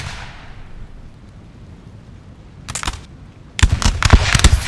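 Musket volleys fire in a Napoleonic battle in the Napoleon Total War video game: a ragged crackling salvo, then after a pause a louder, denser burst of overlapping shots, with no voices.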